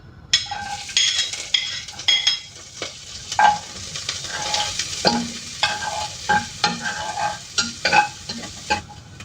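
Cooking oil heats in a pan for arroz caldo, sizzling and crackling softly while a utensil repeatedly scrapes and clinks against the pan in irregular bursts.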